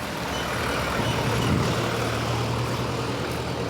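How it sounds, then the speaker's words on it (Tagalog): A vehicle engine rumbles past nearby during an afternoon dog walk, a steady low drone that swells slightly in the middle and fades without speech. "may sasakyan na ano. Ang ingay-ingay."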